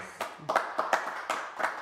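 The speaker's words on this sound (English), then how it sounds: "Can we give a round of applause?" A small lecture audience gives brief, thin applause to thank the speaker, a handful of distinct claps spread over a couple of seconds rather than a full ovation.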